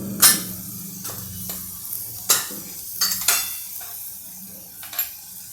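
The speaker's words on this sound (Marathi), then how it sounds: "याला छान भाताबरोबरच परतून घेते" Rice sautéed in a pan with roasted cumin powder, coriander powder and black masala for ivy gourd masala rice: a low sizzle broken by several distinct scraping stir strokes of a spoon against the pan, close and fairly loud, with no talk.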